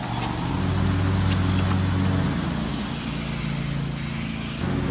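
Aerosol spray paint hisses steadily from a can onto a rusty shop floor, loud and continuous with a brief break near the end, over a low engine-like hum.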